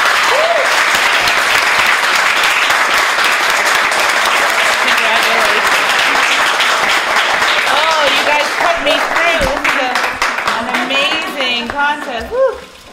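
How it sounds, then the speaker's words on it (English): Sustained applause from a spelling bee audience honoring the winners, loud and steady, with a few cheering voices rising near the end before it tapers off. "A round of applause for all our winners"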